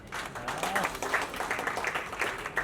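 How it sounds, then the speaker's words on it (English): Audience at a book awards ceremony applauding, steady moderate clapping from a large room, fairly distant and continuous for a few seconds. "Round of applause, everyone."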